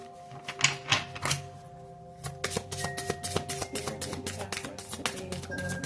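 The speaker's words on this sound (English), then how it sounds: "I'm going to shuffle the cards a little bit more for you all to see" Cards are riffled and shuffled in a rapid series of crisp, papery clicks and flutters, close and moderately quiet, with a short pause partway through.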